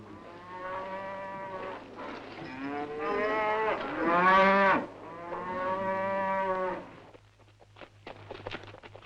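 Cattle lowing on a Black Forest farm in 1964, several long, harmonic moos close by, one after another and swelling to a loud call in the middle, ending with faint shuffling and clatter.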